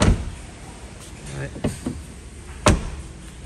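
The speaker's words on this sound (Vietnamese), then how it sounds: "Rồi, em sẽ đóng cửa lại." Rear door on the driver's side of a diesel vehicle being shut, a sharp solid thud near the end after a few lighter handling clicks, close by, with someone speaking briefly.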